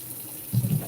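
Tap water runs into a bathtub during a Toller puppy's bath, a steady low splash that thickens and grows louder in the second half of the short stretch.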